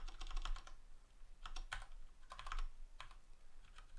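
Bursts of typing on a computer keyboard, clicks clustered in quick irregular runs with short pauses, close and clear with no talking.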